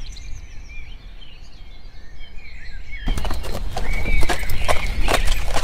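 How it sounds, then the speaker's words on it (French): Horse hooves clip-clop close by at a steady walking rhythm, getting louder and sharper after the first few seconds, with birds chirping in the background. "Laisse-moi monter sur ton cheval"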